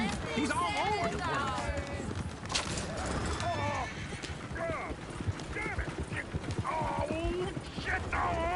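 Horses gallop in the video game Red Dead Redemption, with hooves drumming close and loud, repeated whinnies and neighs breaking through, and voices talking over the commotion.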